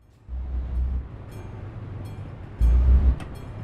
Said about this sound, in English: we have to wait for the train to go past first and foremost